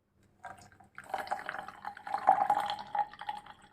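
Water poured from close by into coffee powder and sugar, a short splashy trickle that starts after a brief silence, swells and continues for about three seconds.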